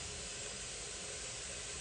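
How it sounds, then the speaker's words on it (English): Steady low hiss of steam rising from water heated in a pot used as a double boiler for melting shea butter, continuous and fairly faint with no talk. "We just wanna create enough so that there's steam."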